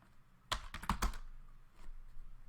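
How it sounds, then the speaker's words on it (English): A short burst of computer keyboard typing for a Linux command, a quick cluster of close clicky keystrokes followed by a couple of softer taps. "now I'm going to type cd / space"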